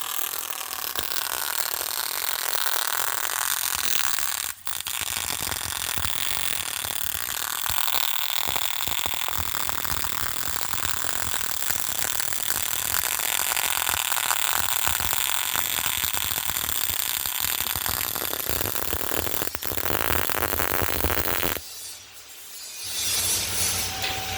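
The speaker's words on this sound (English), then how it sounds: "we're giving him a small weld test to check his accuracy" MIG welding during a welding test gives a loud, steady crackling buzz for about twenty seconds, with one brief break, before the arc cuts off and the sound drops away.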